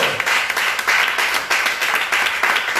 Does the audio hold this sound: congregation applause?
yes